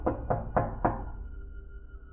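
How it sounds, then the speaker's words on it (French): Four firm knocks on a wooden door, struck in the middle of the night during a violent winter snowstorm, evenly spaced and close, then a low steady hum lingers after the last rap. "quelqu'un a frappé à sa porte au milieu de la nuit"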